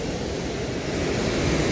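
The Sanjen river near the China–Nepal border gives a loud, steady broadband rush of flowing water, continuous and close, with no voices.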